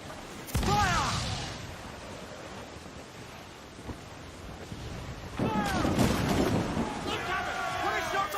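Ship cannons firing in Assassin's Creed 4 Black Flag: two heavy booms rolling out over wind and ocean waves, with crew voices shouting around them.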